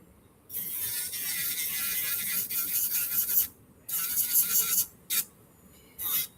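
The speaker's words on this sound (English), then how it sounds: "And this is a wireless nail drill." Wireless nail drill running at high speed, a bright whirring buzz that holds steady for a few seconds, then stops and restarts in short bursts as it is paused; close and fairly loud, no talking.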